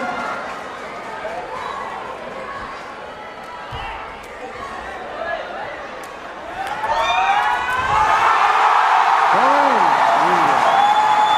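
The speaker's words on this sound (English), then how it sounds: "listen to the crowd" Spectators at a Sepaktakraw World Cup match in Bihar, India swell from a murmur into a loud, sustained roar, with rising and falling horn-like tones near the end and an announcer talking over the indoor court noise.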